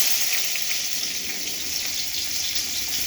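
Chopped onion dropping into a hot pan on a gas stove, giving a steady, close, hissing sizzle that keeps going without a break.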